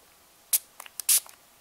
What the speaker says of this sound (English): let me spray it on my hand so you can see